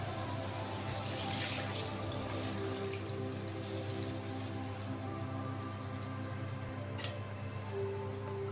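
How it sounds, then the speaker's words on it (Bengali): Hot water pours steadily into a cooking pot of taro and hilsa fish curry in a home kitchen, a continuous close splashing rush with no speech. "এখন এটাতে আমি গরম জল দিয়ে দিচ্ছি।"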